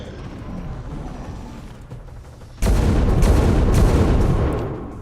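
Video game gunfire starts abruptly after a low rumbling background, a dense burst of loud, booming shots that continues for about two seconds before tapering off, with no voices over it.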